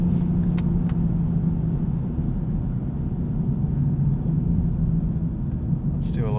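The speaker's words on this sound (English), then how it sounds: "And I think this inline 6 sounds pretty good too." Inline-six engine of a 2020 BMW 840i xDrive Gran Coupe while driving, a steady low cabin rumble at moderate level, with a short higher whine at the very end.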